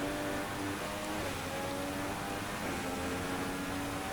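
Rain falls steadily during a wet Austrian Grand Prix in the F1 2016 racing video game, a constant broadband hiss that blends with the droning engine hum of the car throughout.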